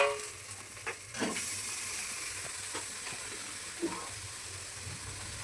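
Cooked-down spice masala sizzling in released oil for a jackfruit and prawn curry, just before potatoes and jackfruit go in. A soft, continuous sizzle is broken by a few stirring clinks and pops, with no talk.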